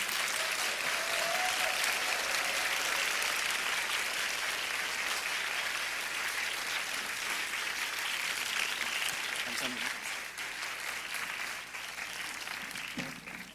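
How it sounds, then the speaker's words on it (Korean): A large audience of young adults at a church worship service applauds steadily, a dense wash of clapping that holds for over ten seconds before thinning slightly toward the end. "가장 뜨거운 박수로 환영하도록 하겠습니다"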